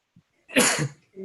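A single loud sneeze bursts out close by during a town board of selectmen meeting, preceded by a tiny click, with a voice starting up right after.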